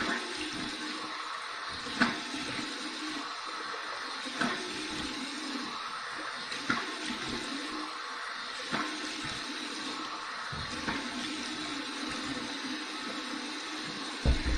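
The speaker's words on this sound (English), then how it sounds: "Here's my warm water rinse." Warm water runs steadily from a tap for rinsing after a shave, a continuous hiss and splash with a few louder spurts from hands or a face dipping into the stream.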